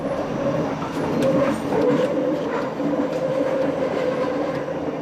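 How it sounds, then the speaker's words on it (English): Steady low rumbling and rattling of a moving Scarborough RT train, with creaks and clacks rising and falling over a continuous, fairly loud hum. "The creaking and rattling sounds of trains show they've run their course"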